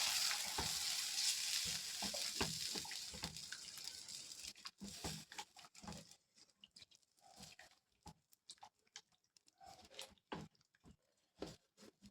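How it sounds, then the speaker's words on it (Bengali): Tilapia curry in mustard paste is stirred in a pan after water goes in: loud sizzling at first fades to quieter, as a spoon scrapes and knocks against the pan in irregular bursts. "জলটা দিয়ে আবারও নাড়াচাড়া করে দেবো।"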